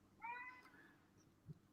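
A cat meows a few times, a near drawn-out call followed by a shorter, softer one, against quiet room noise.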